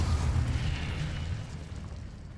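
Confringo explosive spell blast in Hogwarts Legacy, a deep rumbling boom that decays steadily over a couple of seconds, loud and close with no talk.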